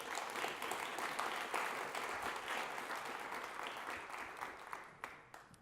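Audience applause for panelists arriving on stage at a data governance conference session, a dense, steady wash of many hands clapping that holds for several seconds and thins slightly toward the end, with no talking over it.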